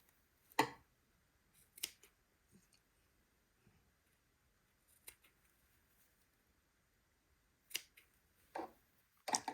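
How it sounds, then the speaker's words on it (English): Embroidery scissors trim stray threads close to a zigzag-stitched edge around a dress neckline, giving several sharp, isolated snips spaced irregularly with quiet pauses between them. "with my embroidery scissors, I'm just going to trim close to my zigzag edge"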